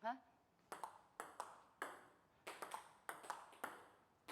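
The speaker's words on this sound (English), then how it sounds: "That's the sound of the ball being fully gripped by the rubber." Soft, quick brushing hits of a table tennis ball on a paddle's rubber, struck with heavy spin, several in an uneven rhythm, each a light swish rather than a sharp click.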